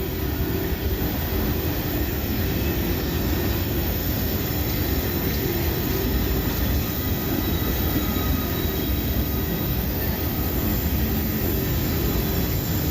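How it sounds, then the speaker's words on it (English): A long freight train of empty tank cars hauled by one locomotive rumbles steadily past up close, a continuous heavy roar of rolling wheels with faint metallic squeals, no voices. "this is a big old train for one locomotive"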